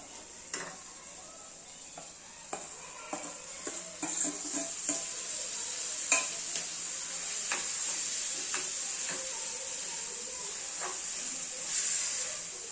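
Roasted eggplant being stirred into an onion-tomato masala as it fries in oil, with a steady sizzling hiss and scattered scraping stir clicks from a spoon against the pan, close and continuous.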